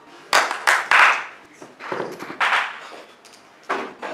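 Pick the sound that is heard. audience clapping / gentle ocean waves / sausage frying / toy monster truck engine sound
audience clapping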